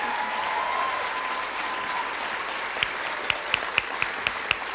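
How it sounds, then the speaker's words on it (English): Sustained applause from an audience at a nurse pinning ceremony, a steady dense wash of clapping with a few sharper individual claps standing out near the end. "So let's all give a round of applause for everyone here today who made this milestone possible."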